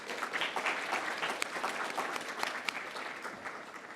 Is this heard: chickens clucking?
no